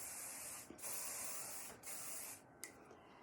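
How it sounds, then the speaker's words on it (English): Aerosol hairspray sprays onto a wig in several long, loud hissing bursts separated by brief pauses, ending with a short final puff. "Let's put some spray in there."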